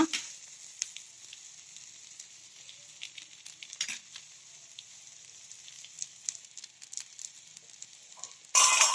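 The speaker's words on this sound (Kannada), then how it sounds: "ಮೇಲೆ ಸ್ವಲ್ಪ ಎಣ್ಣೆ ಹಾಕೊಳ್ಳೋಣ" Uttapam frying in a pan with oil added on top, giving a steady soft sizzle with faint crackles throughout and a loud clatter near the end.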